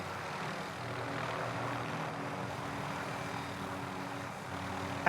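Helicopter in the video game CoD Warzone, a steady droning rotor and engine hum close by, continuous and fairly loud without talk.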